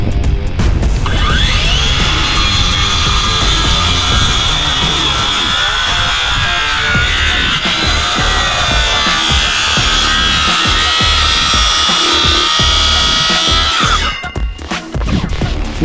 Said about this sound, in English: we're going to do a plunge cut here.